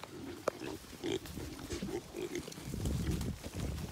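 Pigs grunt and snuffle nearby in a continuous low rumble, with occasional sharper snorts rising out of the steady grunting.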